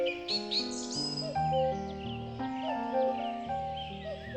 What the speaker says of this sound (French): Les oiseaux y sont particulièrement nombreux.